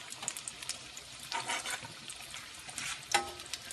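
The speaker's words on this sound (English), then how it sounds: "You have to be very, very careful when you're frying these because they are very, very delicate." Delicate shrimp-stuffed pieces fry in oil, a soft continuous sizzle and crackle with occasional louder pops, heard close and alone without talk.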